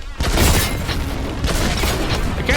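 Grenade blasts in Warhammer 40K Boltgun sound as a loud, dense stretch of booming explosions, with a heavy rumble and several sharp bursts that follow one another without any real pause.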